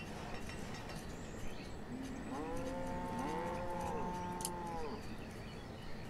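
Cattle moo in the Banished video game, one long, close, drawn-out low call against a soft ambient background.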